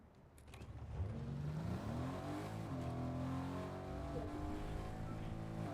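A car engine in the Fortnite video game revs up as the vehicle pulls away and drives on, its steady motor drone rising in pitch and holding loud and close without pause.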